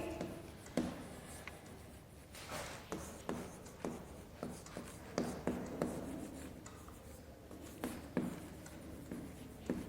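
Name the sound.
writing a formal letter by hand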